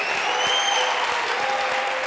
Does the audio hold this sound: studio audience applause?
yes